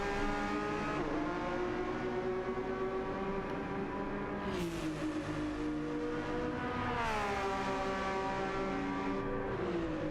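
Race car tyres in an online pro-am racing game at Interlagos squeal and whine under a steady, loud engine drone, with engine pitch sweeping downward twice as cars brake into corners.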